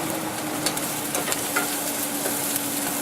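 Large chopped carrots sizzle and fry in a hot pot for a spicy vegetable soup, a steady crackling hiss with light stirring clicks close by.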